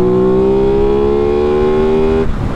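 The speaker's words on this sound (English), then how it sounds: "let's see how it revs!" An Aprilia Tuono 660 motorcycle engine revs up in a rising, steady buzzing note that climbs smoothly and is held loud and close, then drops off abruptly near the end.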